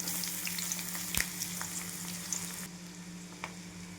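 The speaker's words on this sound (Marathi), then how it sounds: "गरम झालेलं आहे आपलं तेल आणि कांदा आलं लसूण पेस्ट" Onion, ginger and garlic paste fries in hot oil with a loud, continuous close sizzle, a sharp clink of a utensil early on, and the hiss softening partway through.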